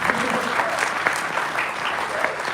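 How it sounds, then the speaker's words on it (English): A convention panel audience at New York Comic Con breaks into steady, moderately loud applause, a dense patter of many hands clapping with a few voices mixed in. "Oh, clap up for Alex, dude."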